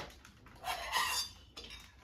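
A plate is fetched and set down for cats, giving a brief clatter of dishes with a sharp clink in the middle, close and fairly loud.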